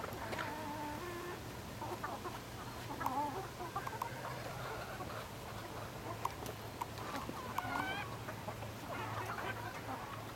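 Chickens cluck and squawk nearby at a Thanksgiving gathering, making scattered, irregular calls over a constant low hum and rustling background noise.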